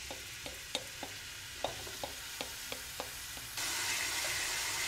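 Finely chopped onion and garlic are stirred in a soup pot, with a series of sharp spoon scrapes and taps over light frying, then a sudden louder broadband sizzle takes over near the end.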